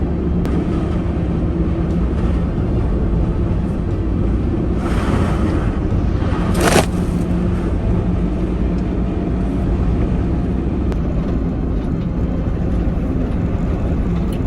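A van driving on a rutted road of melting ice at the end of winter, a loud continuous rumble of engine and tires with wind noise, plus a brief sharp bump midway through.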